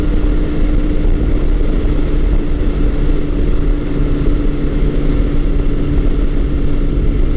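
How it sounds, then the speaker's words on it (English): A 1984–1986 Honda Nighthawk 700S cruises at 65 mph, a steady, smooth engine drone blended with constant road and wind rush, loud and even throughout with a low hum beneath. "At 65 miles an hour, there is almost no vibration to this bike whatsoever."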